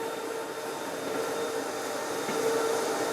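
A Baby Mammoth floor grinder runs with a steady, dense mechanical whine and broad grinding hiss, loud and close, holding an even tone throughout with no talk.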